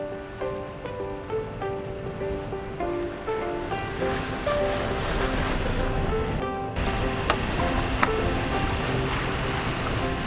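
A boat's engine drones steadily while the vessel sets off 300 nautical miles offshore, its hum blended with constant wind and wave wash and a few faint knocks.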